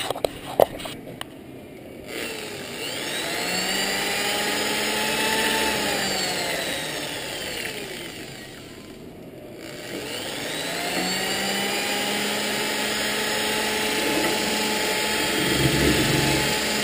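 A power drill mixer stirs a clear coating solution in a container before pigment is added, whirring steadily in two long runs that ramp up and down, close and loud, with a brief pause between.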